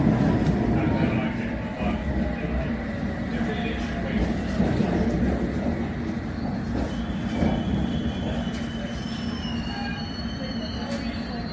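A London Underground train runs steadily, its wheels squealing and clattering on the rails at close range, with a rumbling continuous roar throughout and a public-address announcement faintly in the mix.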